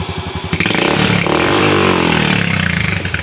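A Yamaha motorcycle engine idling close up during CO mixture adjustment, giving a loud, continuous, steady putter with a slight shift in pitch partway through.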